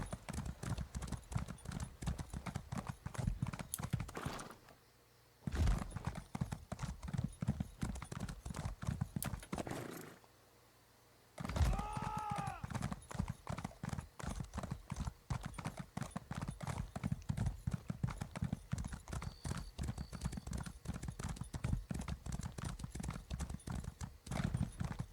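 Steady clip-clop of a horse's hooves in a video game as the rider leaves a gate, a fast continuous rhythm with two brief pauses and a short whinny partway through, no talking.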